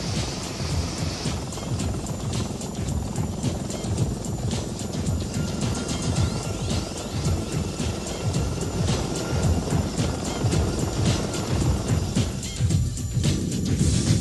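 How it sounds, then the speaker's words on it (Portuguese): A US Army air-assault helicopter, the main troop transport of its day, flies with a steady, heavy rotor thump and engine roar that stays loud and constant throughout, with no talking. "Era o helicóptero de assalto aéreo mais importante do exército norte-americano"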